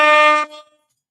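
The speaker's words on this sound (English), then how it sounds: "Get some air horns." A single brief blast from an air horn sound effect, loud and harmonic, cutting off abruptly and leaving near silence.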